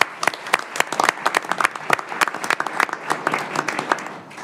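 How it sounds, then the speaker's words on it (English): Audience applause at a board of trustees meeting: a short burst of crowd clapping, dense and fairly close, with individual sharp claps standing out throughout. "let's give her a round of applause"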